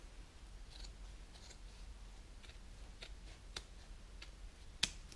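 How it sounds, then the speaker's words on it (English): Scissors snipping along a traced paper line, a series of quiet, sparse clicks and cuts with one sharper snap near the end, close up and faint with no talk. "if you take your scissors and you follow this line"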